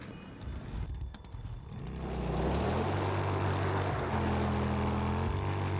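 A drifter's motorbike engine in a snowy zombie survival video game starts up and settles into a steady, loud droning hum, with brief pitch dips, no talking over it.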